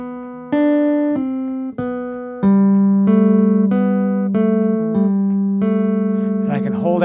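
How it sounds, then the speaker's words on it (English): A Chapman Stick plays a sequence of clean tapped notes that sustain and ring out, building into overlapping held pairs, with a steady low tone droning under the melody. "I can sustain certain notes in different combinations. So when I go, I can let those notes ring out."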